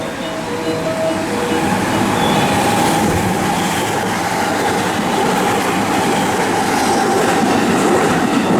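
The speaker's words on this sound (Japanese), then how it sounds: "3番乗り場を電車が通過します。" A JR West train runs through platform 3 at Suita Station without stopping, a loud steady rumble and rail roar with faint clickety-clack, continuous across the whole stretch with no talk.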